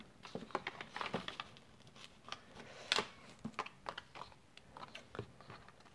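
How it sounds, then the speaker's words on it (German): Scissors trimming the overhanging paper edges of a handmade birthday card, a series of quiet, close snips and crisp paper crunches in an irregular rhythm, with no voice over them. "Und ich schneide mir die Überstände ab."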